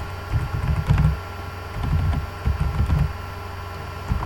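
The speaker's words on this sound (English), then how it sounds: "So I'm actually going to type this out." Close, clattering keystrokes on a computer keyboard come in a few uneven bursts with brief pauses between them.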